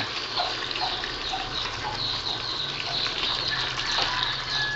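Water poured into a pot of pork menudo, a steady gushing splash that runs without a break for several seconds, fairly loud and close, with no talking over it.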